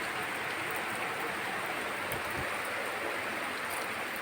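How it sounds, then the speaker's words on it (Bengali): Heavy rain falls in a steady, dense hiss that stays even and continuous, close and fairly loud, with no talking. "একটু করে থেমে আসছে আর জোরে জোরে বৃষ্টি হচ্ছে"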